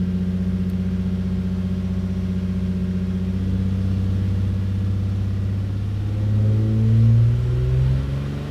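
A Nissan VQ37VHR V6 engine revving gently while cold during coolant bleeding, a steady mid-pitched drone that swells in two modest revs toward the end, close and alone with no talk.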